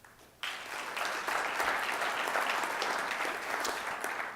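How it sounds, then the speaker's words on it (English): Sustained audience applause at a 2013 energy summit, a dense wash of clapping that starts sharply after a brief quiet moment and holds steady and loud to the end. "you definitely deserve a round of applause for the Worcester Business Journal"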